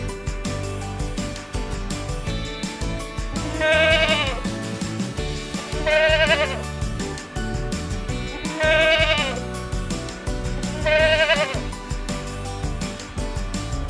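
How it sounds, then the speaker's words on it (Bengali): A young goat kid bleats four times in evenly spaced cries, clear and prominent over steady background music, with no speech. "ছয়ে ছাগল ছানা লাফিয়ে চলে"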